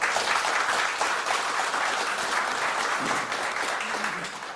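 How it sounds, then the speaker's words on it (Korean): An audience at a breakfast forum gives a warm round of applause welcoming a newly appointed defense procurement chief, dense, steady clapping that fades slightly toward the end. "먼저 큰 박수 부탁드립니다"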